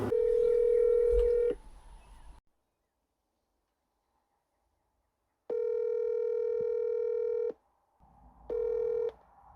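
A phone number is dialed on a telephone: a burst of steady electronic dial tones, a silent pause, then two more sustained tone bursts, fairly close and clear, with no talking.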